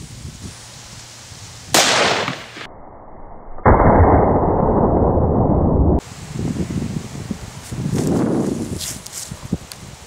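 Ruger Super Redhawk Alaskan .454 Casull revolver firing Hornady 240 grain hollow points into pumpkins outdoors, a sharp loud close shot followed by muffled impacts and shuffling sounds, with no talk.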